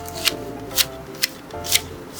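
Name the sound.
cutting down a small blackberry bush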